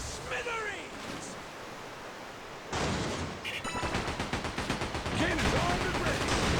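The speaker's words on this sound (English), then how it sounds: "Cannons armed and ready!" Ship cannons firing in the pirate video game Like a Dragon: Pirate Yakuza, heard as a burst of loud booming blasts and rapid gunfire over roaring sea noise, with game voices calling out beforehand.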